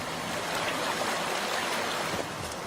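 A river flowing beside a drinking-water reservoir pond, a constant dense rush of water, close and steady with no voices.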